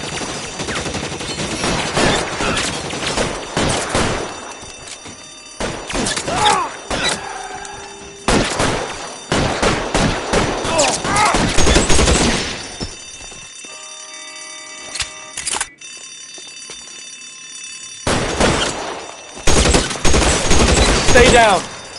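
Gunfire in the video game L.A. Noire, loud bursts of rapid automatic shots in long volleys separated by short pauses, with voices talking between and over the shooting.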